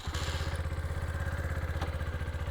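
A Zontes Monster 125 motorcycle idles and putters close by with a steady low, pulsing single-cylinder beat, moderately loud and unbroken, with no voices over it.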